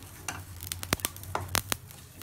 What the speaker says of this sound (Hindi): ये है राई इन सबको हम एक मिनट भून लेंगे